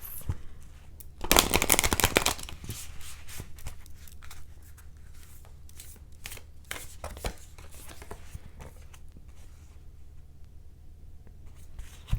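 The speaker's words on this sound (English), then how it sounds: "I'm going to pull 4 cards from the Work Your Light Oracle deck." A Work Your Light Oracle card deck being shuffled by hand close to the mic, with a loud riffle burst early on followed by softer, repeated card flicks and slides that taper off toward the end.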